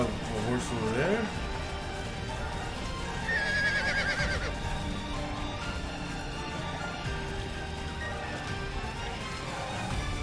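A horse in a video game gives one short, bright whinny amid game ambience, with someone talking over it now and then.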